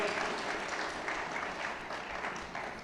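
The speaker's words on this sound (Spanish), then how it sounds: "dese un aplauso" A church congregation applauds at a sermon, giving a dense, continuous patter of many hands clapping at an even, moderate level throughout.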